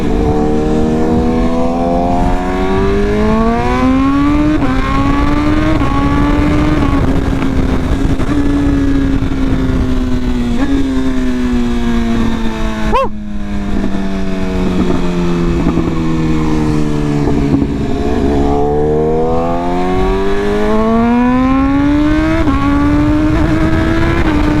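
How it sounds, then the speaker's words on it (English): A BMW S1000RR sport bike engine roars loud and close while riding, its pitch rising and falling continuously through gear changes over more than twenty seconds with wind rush underneath. "Oh, this bike sounds so good ripping."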